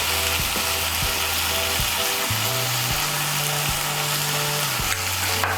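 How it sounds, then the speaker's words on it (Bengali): Fried potatoes are stirred with spices in a pan for a Bengali soyabean kofta curry, giving a steady loud sizzle with scraping stirring throughout. "এখন এর মধ্যে দিয়ে দেবো ভেজে রাখা আলু। আলুগুলোকে মশলার সঙ্গে মিশিয়ে নেব।"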